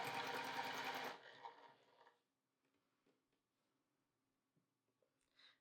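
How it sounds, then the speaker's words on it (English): A sewing machine runs in a steady whir for about a second while sewing star point triangles onto background triangles for a Dancing Star quilt, then gives way to soft fabric handling, ticks and creaks in a quiet room. "let's sew these triangles into place along one side"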